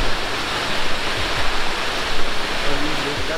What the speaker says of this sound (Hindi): यहाँ से आपका पानी बहता हुआ आ रहा है 90 फीट ऊपर